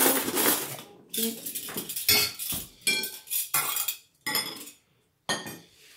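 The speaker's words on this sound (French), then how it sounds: "je vais poser le couteau" A metal knife set down in a kitchen while assembling crêpe lasagne gives a series of clinks and clatters, separate sharp knocks with short silences between them.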